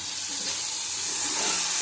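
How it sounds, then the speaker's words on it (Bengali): Ground cumin, about two spoonfuls, sizzles and fries steadily in a hot pan while being stirred, a dense close hiss that swells slightly louder toward the end. "ভালো করে কষিয়ে নেবো"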